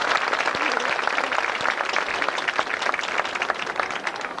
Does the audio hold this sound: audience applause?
yes